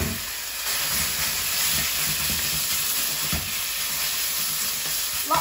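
Beef hits a smoking hot wok and stir-fries with a loud, steady sizzle and hiss, punctuated by the scrape and clatter of stirring.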